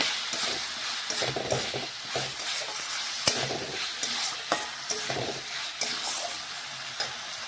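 Egg and cauliflower curry with potato and spices is stirred and sautéed in a pan. A steady sizzle runs throughout, broken by repeated scraping stirs at an irregular rhythm, close and fairly quiet.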